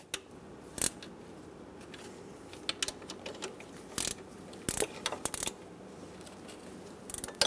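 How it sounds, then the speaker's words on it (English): A ratchet snugging alternator bolts on a 2003-2009 Dodge Ram 2500 with a 5.7L V8, giving quick close-up metallic clicking runs in irregular bursts against a quiet background. "Snug these bolts up."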